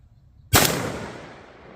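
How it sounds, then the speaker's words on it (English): A single 20 gauge shotgun blast goes off outdoors, a sharp loud crack after a moment of quiet, followed by a long rolling echo that slowly fades. "All right, 2 shots with the 20 gauge."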